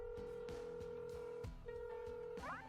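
A telephone dialing the operator in a video game, with a steady tone broken by repeated clicks and short dial beeps, ending in a rising warble.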